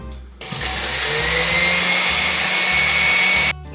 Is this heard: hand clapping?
no